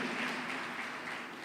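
A church congregation applauding during a sermon, a dense, steady wash of clapping from many hands, sustained and fairly even with no speech over it.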